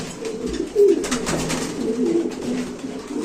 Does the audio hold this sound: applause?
no